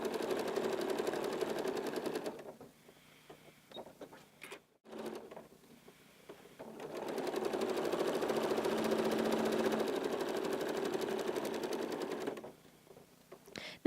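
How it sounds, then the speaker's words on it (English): A Janome sewing machine straight stitching placemats runs in long steady bursts of fast, even needle rattle, close and loud, stopping briefly between seams with faint handling sounds in the pauses. "you can do all of your straight stitching first"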